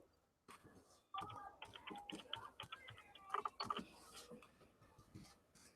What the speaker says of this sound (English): I'm going to just type my password in right quick